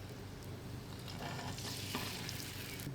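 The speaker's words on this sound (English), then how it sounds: "putting butter down, testing that griddle temp" Butter sizzles across a hot flat-top griddle with a steady, crackling hiss that swells slightly midway. Nearby spatter pops are heard close up, and no voices are present.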